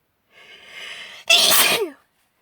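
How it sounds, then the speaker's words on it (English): A single allergy sneeze: a drawn-in, rising breath builds for about a second, then bursts into one loud, close explosive sneeze that trails off quickly into silence. "I'm gonna sneeze."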